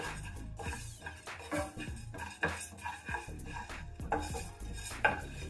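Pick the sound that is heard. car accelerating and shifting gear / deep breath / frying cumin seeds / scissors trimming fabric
frying cumin seeds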